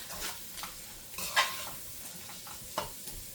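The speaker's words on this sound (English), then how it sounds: "Now I'm just going to let that stir fry for a few seconds." Spanish salami sausage stir-fries with seasonings in a pan, making a low, continuous sizzle punctuated by a few close spatula scrapes and clicks against the pan, without any talking.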